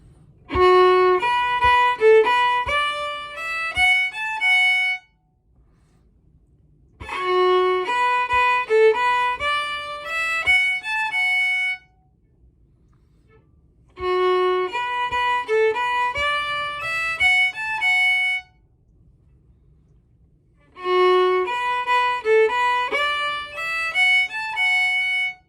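Four phrases of the slide tune An Chóisir played on a melodic instrument, each a few seconds long with rhythmic plucked-sounding notes and short pauses between, clear and alone with no talking.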